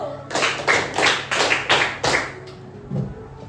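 A classroom of students claps together in a numbered pattern, about six sharp group claps in quick bursts followed by a pause and one or two scattered claps.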